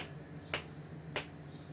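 Two crisp finger snaps ring out about half a second apart, sharp and close against a quiet, faintly humming room, with no talking.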